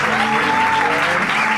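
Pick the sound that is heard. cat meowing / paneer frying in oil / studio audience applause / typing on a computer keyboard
studio audience applause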